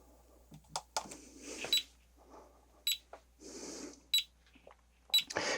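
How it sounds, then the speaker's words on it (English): Soviet Chernobyl-era radiation detector clicking out a series of short, sharp beeps at irregular intervals, some in quick pairs, fairly close and clear against a quiet room with faint background noise. "So this is Soviet from the Chernobyl time, a radiation detector."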